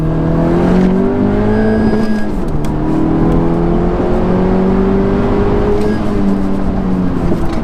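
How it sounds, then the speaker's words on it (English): A 10th-generation Honda Civic Si fitted with a Mishimoto intercooler pulls hard in second gear. The engine note is loud and steady and climbs in pitch as it revs, with no talking. "just a quick little second gear pull there"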